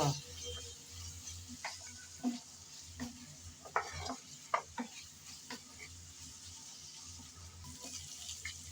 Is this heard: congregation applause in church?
no